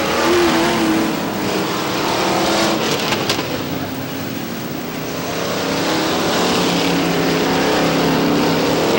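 Street stock race cars at Star Speedway in New Hampshire roar steadily nearby as a yellow flag comes out after a wreck in the fourth turn, with a continuous loud engine drone and no talk.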